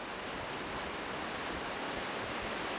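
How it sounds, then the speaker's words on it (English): A waterfall plunging 83 meters over a rock wall into the St. Lawrence River in Quebec, heard as a steady, dense roar of rushing water that fills the whole stretch without a break. "The river with the same name rushes over a rock wall 83 meters into the St. Lawrence River."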